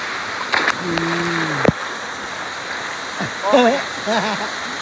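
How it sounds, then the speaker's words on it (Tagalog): A constant rushing roar of falling water at Bolinao Falls, Pangasinan, Philippines, fills the background while people talk and call out over it. "Talon!"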